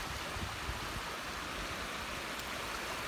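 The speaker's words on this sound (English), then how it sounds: "So the waves are kind of breaking" Waves break over a sandbar near the shore in a continuous, even wash of hissing surf, fairly faint and without distinct separate crashes.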